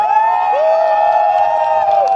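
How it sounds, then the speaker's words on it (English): Spectators at the Manx Grand Prix motorcycle road race on the Isle of Man cheer and whoop loudly and steadily, with sustained voices close by throughout. "Alex Sinclair getting his applause"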